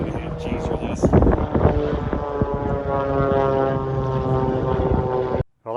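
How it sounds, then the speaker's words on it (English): A propeller-driven airplane flying aerobatics at an outdoor airshow, its steady droning engine loud and close with wind buffeting, and a voice talking over it before a sudden cutoff near the end. "Aerobatic flight, what is that, a 60-degree bank there?"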